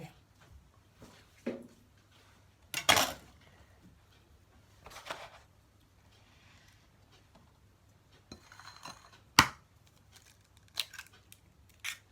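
Eggs are cracked into a bowl for a garlic-leaf omelette, heard as a few sharp, close taps and shell cracks with faint clinks and rustles between them.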